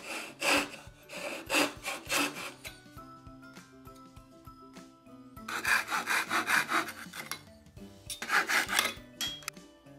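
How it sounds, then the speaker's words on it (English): A bandsaw fitted with a jig cuts triangles out of wood in three separate bursts of coarse, rasping cutting, set against a quieter steady tonal backing between cuts. "I used my bandsaw jig to cut triangles out to do this"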